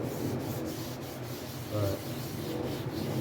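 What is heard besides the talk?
sanding the clear coat on a burnt orange Telecaster guitar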